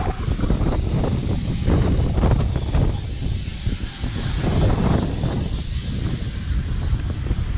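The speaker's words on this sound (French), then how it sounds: "Il y a un bon coup de Mistral." Strong Mistral wind roars and buffets the microphone in heavy gusts, loud and rumbling throughout with surging and easing intensity.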